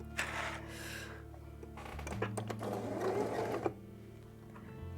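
A sewing machine stitches fabric for a pair of pyjamas in short close bursts of rapid mechanical whirring, with a pause in between and a brief stop near the end, and no talking.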